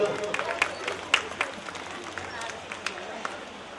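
Audience applause at a Bhagavat recitation: scattered hand claps with a few sharper bursts, heard from a moderate distance over murmuring voices and a steady crowd hubbub.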